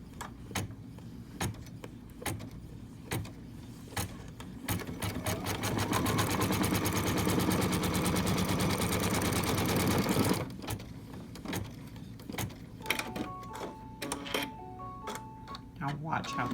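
Sewing machine running a tack-down line across quilt fabric: scattered clicks first, then a steady loud mechanical whir for several seconds that stops, followed by more clicking handling noises.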